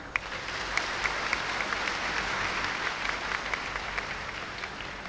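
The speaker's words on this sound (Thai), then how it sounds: "ขอเสียงปรบมือหน่อยครับ" A crowd at the opening of a Muay Thai fight night applauds steadily, with sharp individual claps standing out from the dense, moderately loud wash of clapping.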